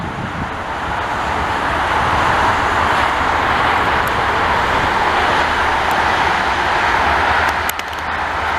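A local CP freight train creeping slowly through Lachine station in Montreal, a steady broad rumble of rolling wheels and rail noise, close and continuous, with a few faint squeals and clanks near the end.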